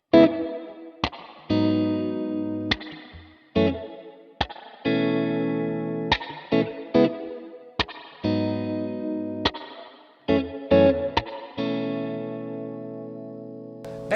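Guitar notes and chords run through a Universal Audio Golden Reverberator pedal on its smoother B setting, with picked attacks followed by spring-like reverb tails that ring out between phrases, loud and alone.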